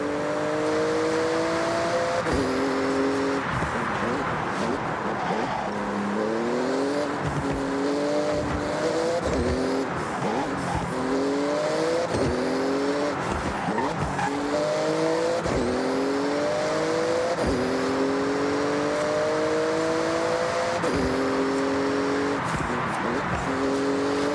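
A Porsche races through a speed zone in the Forza Horizon driving game, its engine roaring loud and close, climbing in pitch through repeated gear shifts, with tire squeal mixed in and no break for the whole run.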